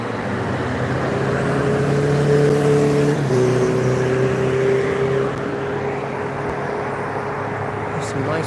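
Cars passing along a busy London street, a steady engine rumble with a sustained droning tone and traffic noise continuing throughout, fairly close, with no talk over it.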